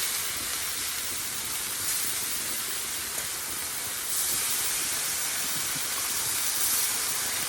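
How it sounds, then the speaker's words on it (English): Steady, loud sizzling hiss of bacon frying on a hot barbecue grill outdoors, continuous with no talking, swelling slightly partway through. "Time to pop the bacon on, I think. Now, that'll sizzle away."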